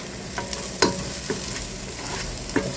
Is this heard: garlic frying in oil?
yes